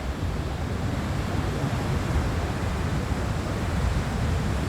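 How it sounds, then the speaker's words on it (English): A waterfall at Storms River, Tsitsikamma, roars as a steady, broad rush of falling water. It is heard along a forest hiking trail, loud and continuous, with no voices over it. "I'm coming up to the waterfall now."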